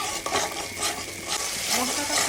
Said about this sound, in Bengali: এখন মশলাটা খুব ভালো করে কষিয়ে নেব